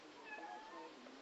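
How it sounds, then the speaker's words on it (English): A pet cat named Fuchsia meows in a drawn-out, wavering cry with rising and falling pitch. It is faint and sounds a little distant, heard on its own. "Fuchsia's meowing in the background"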